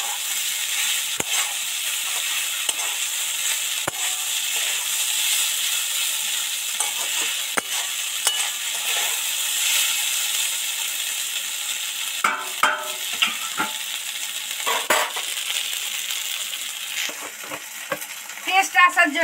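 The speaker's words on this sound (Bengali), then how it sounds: "এবার আস্তে আস্তে নেড়ে চেড়ে ভালো করে মিশিয়ে দিচ্ছি।" Flattened rice tossed with fried potatoes in a pan is stirred steadily, with a continuous soft sizzle of frying beneath irregular scraping strokes and a few sharper clinks of the spoon toward the end.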